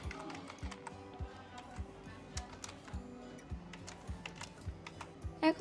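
Keys on a computer keyboard tap out printf code for a C program in a quick, uneven stream of light clicks, close and fairly quiet.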